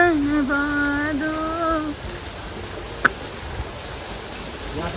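Water from the Sawan Bhado fountain at Saheliyon Ki Bari garden in Udaipur patters steadily like rainfall, a soft continuous hiss under a brief voice and one sharp click.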